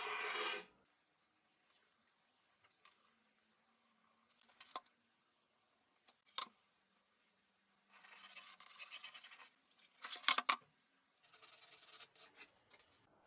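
A pencil draws lines on the underside of a wooden bookcase shelf in short, separate scratchy strokes between near-silent pauses, close and fairly quiet, with a longer scribbling burst near the end.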